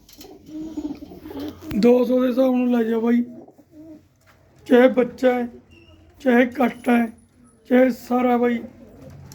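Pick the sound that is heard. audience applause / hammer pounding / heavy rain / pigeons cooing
pigeons cooing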